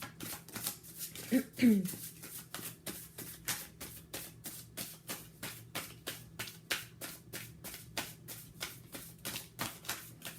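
Tarot cards being shuffled by hand, a rapid run of soft papery riffles and taps repeating steadily throughout, fairly quiet with a brief voice early on.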